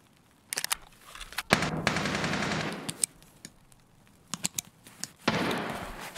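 Automatic gunfire from a rifle loaded with PS ammo in the shooter game Escape From Tarkov, heard as several sharp bursts and single reports with quiet gaps between them, all without speech.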